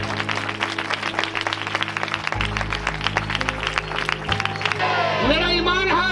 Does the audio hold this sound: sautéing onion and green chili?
no